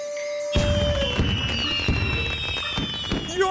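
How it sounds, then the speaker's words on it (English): Fireworks go off close by in a dense run of crackling bursts and booms with whistling streaks, loud throughout, while faint speech sits underneath. "Oh, just watching the fireworks."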